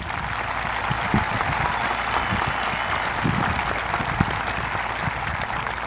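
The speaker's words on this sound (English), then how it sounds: "Let's take a quick moment to give these folks a round of applause." Steady applause from the audience at a high school graduation ceremony, a dense, even wash of clapping that holds for about six seconds with no voices above it.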